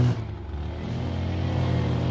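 A neighbor's string trimmer runs on a lawn nearby with a steady, droning motor buzz. It stays moderately loud throughout, with no talking over it.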